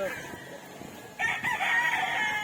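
A young gamefowl stag rooster crows on a farm, the call swelling partway through and lingering over faint farmyard background noise.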